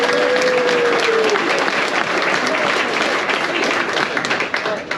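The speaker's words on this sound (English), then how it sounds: "Let's give a round of applause for these too." Dense, steady applause from an audience honouring Vietnam War veterans fills a large space, loud and continuous, with faint voices and a brief whistle-like tone mixed in.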